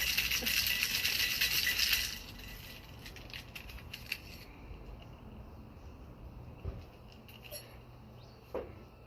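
Ice rattles hard inside a cocktail shaker for about two seconds as a drink is shaken, followed by softer scattered clinks and handling noises.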